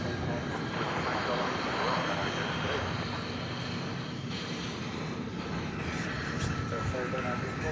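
A Kalitta Air Boeing 747-400 from 2002 arrives at DFW after a flight from Anchorage, its engines a loud, broad, sustained roar that holds steady across the whole stretch.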